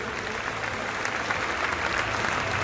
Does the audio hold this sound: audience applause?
yes